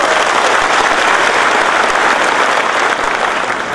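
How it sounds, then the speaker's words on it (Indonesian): An audience at an official visit of the Indonesian TNI commander and police chief in East Kalimantan claps loudly and steadily from start to end, a dense crowd applause with no speech over it. "Aplaus untuk beliau."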